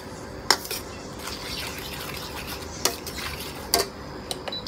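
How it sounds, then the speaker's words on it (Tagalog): Butter and salted egg yolks being stirred continuously in a pan, with a metal utensil clinking sharply against the pan a few times over a low, steady background hiss. "So continuous lang ang halo para hindi masunog yung butter."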